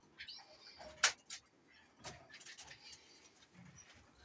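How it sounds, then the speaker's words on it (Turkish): Lovebirds in a home bird room give sharp, sparse chirps and squeaks, one louder peep standing out among quieter calls over a soft, steady room background. "Burada Sevda papağanı takımımız var."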